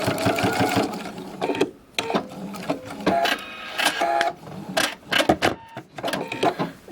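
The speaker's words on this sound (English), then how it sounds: "now I'm going to finish sewing the seam from the other side" A sewing machine runs in loud, close bursts while stitching a flange seam less than a quarter inch wide, pausing briefly between runs of rapid mechanical chatter.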